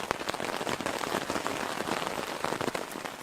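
Steady rain patters on surfaces around a lakeside canoe campsite in the woods, a dense, even hiss with scattered drop impacts and no voices.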